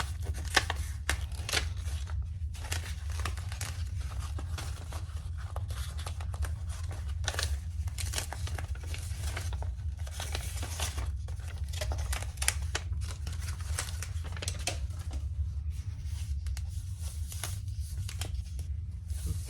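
Scissors cut through fabric for a sewing project, a bag buddy with a sewing accent, giving a steady run of crisp snipping and rustling strokes over a constant low hum, close by and with no talk.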